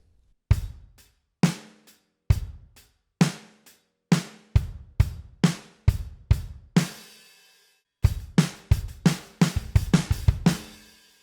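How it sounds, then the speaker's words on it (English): A drum beat of kicks and snares runs steadily, then speeds into a quick rolling fill of rapid hits near the end, loud and close. "it's just a little fill that plays within the beat"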